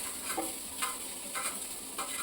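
Soft sizzling of green chillies frying in a pan, with faint stirring scrapes every half second or so, quiet and without voices.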